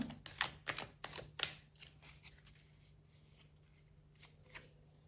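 A tarot card is drawn from the deck with quick papery flicks and riffles, a cluster of crisp close snaps at first, then softer sparse card sounds, quiet and without talk.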